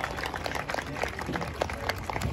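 Audience applause at a Renaissance festival owl show, a spread of brisk claps and crowd noise at moderate volume, continuous throughout.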